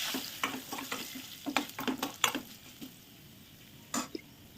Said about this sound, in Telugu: ఇప్పుడు మనం దీంట్లోకి 2 రెమ్మల కరివేపాకు యాడ్ చేస్తామండి